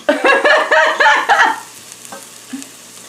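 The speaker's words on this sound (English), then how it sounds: "It says to basically stir until onions are coated and spices are fragrant." Onions and spices sizzling in a pot as they are stirred, with several quick, close scraping strokes followed by a fading hiss and a few faint clicks.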